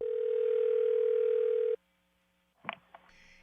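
Telephone dial tone before a prank phone call, a loud steady hum for almost two seconds that cuts off abruptly, followed by silence and a couple of brief clicks.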